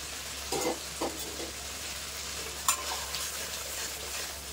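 Green peas tipped into well-fried spice masala for matar paneer and stirred: a low, steady sizzle with a few soft clattering stirs and scrapes, moderately quiet and without talk.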